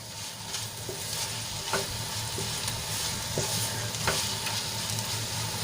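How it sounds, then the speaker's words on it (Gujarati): Okra cooking with spice masala in a pan gives a constant close sizzle, with periodic spatula scrapes and clicks as the mixture is stirred, and no talking. "મસાલો સરસ રીતે મિક્સ કરીને આપણે 2 થી 3 મિનિટ સુધી એને ફરીથી આપણે ચડવા દઈશું"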